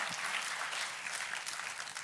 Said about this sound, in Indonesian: Tepuk tangannya sekali lagi yang paling meriah buat Tuhan kita.